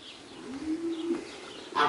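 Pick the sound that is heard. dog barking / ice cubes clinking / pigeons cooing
pigeons cooing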